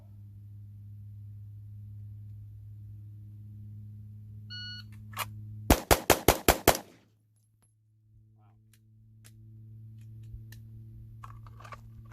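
A rapid string of about six sharp gunshots at target shooting, loud and close, set against a steady low hum with a few faint beeps before and after, no talking.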